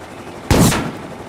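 Computer-controlled enemies in a video game firing at a flying ship, heard as a single loud, sharp gunshot blast that decays over a few tenths of a second.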